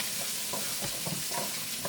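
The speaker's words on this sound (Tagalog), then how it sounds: "Saute. Yan. Bawang at saka sibuyas yan, guys." Garlic and onion sauté in a hot pan, giving a steady close sizzle broken by a few soft stirring scrapes.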